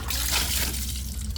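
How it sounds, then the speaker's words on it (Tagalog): Water is poured over a degreased motorcycle engine, exhaust and swing arm, producing a brief, close, steady splashing rush of liquid. "Tapos buhusan natin ng tubig."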